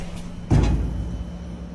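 A heavy door in a dark building swings open with one deep, booming thud followed by a low rumble that fades slowly. It is fairly close and there are no voices.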